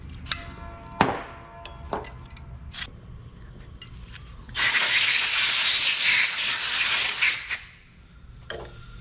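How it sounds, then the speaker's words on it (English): Brake cleaner hisses from an aerosol can onto the bolts of an Allison 4000 series transmission bracket in one long loud spray, preceded by scattered metallic clanks and knocks of the work. "Bracket bolts, we're gonna clean with brake cleaner"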